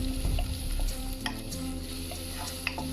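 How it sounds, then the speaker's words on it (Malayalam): Chopped onion sautéing in hot oil with garlic over medium flame for a chicken soup, a steady close sizzle with occasional light stirring scrapes throughout. "എന്നിട്ട് നമ്മൾ ചോപ്പ് ചെയ്ത് വെച്ചിരിക്കുന്ന ഓണിയൻ ആഡ് ചെയ്ത് കൊടുക്കുക."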